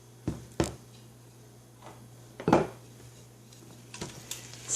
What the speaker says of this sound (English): And I'm going to stir these around.